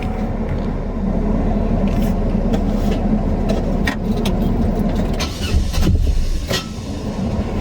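A 2001 Chevrolet Monte Carlo with a 3.8L engine cranking repeatedly without starting during fault diagnosis; loud, continuous churning starter whir close up, with a rougher surge toward the end.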